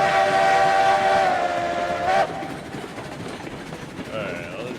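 A locomotive in the railroad sim RailRoads Online sounds a long, loud, steady whistle with stacked tones for about two seconds. It cuts off sharply, leaving a low rolling rumble of the train passing, and a fainter, wavering whistle comes near the end.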